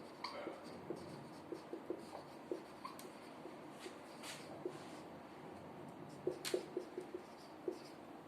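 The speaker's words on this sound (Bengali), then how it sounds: "সমীকরণটা লিখব প্রথমে।" Pen or chalk writing out a chemical equation by hand during a chemistry lecture, heard as faint, scattered scratchy strokes and taps across the stretch, with a few firmer clicks near the end and no talk.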